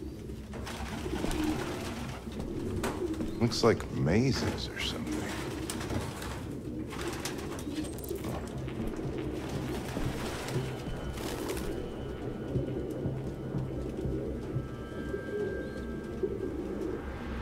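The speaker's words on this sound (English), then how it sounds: "No human could live with all these fucking pigeons." Pigeons in a nest in Detroit: Become Human coo in soft, repeated, fairly close calls, with scattered flutters and a brief spoken remark over them.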